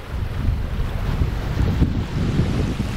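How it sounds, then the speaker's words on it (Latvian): The Svēte river rushes in strong flood current near a bridge, a loud, continuous churning roar mixed with gusting wind buffeting the microphone. "Milzīga straume."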